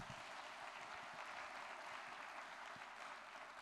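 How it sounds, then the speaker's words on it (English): Faint, distant applause fills the hall at a leaders' dialogue on adaptation action in Africa, a steady, even patter of many hands with no voices. "I believe His Excellency deserves another outstanding round of applause"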